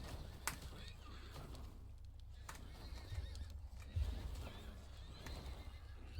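A horse whinnies in the survival game Rust, with clip-clopping hooves, a few sharp hits and low game rumble; a voice talks faintly over part of it.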